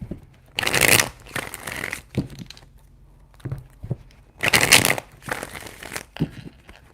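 Tarot cards shuffled in several loud bursts of riffling and crinkling, two main rounds separated by quieter handling, close by with no speech.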